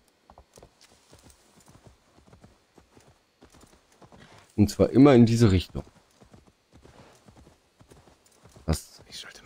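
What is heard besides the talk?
horse hooves while riding, from video game Assassin's Creed Valhalla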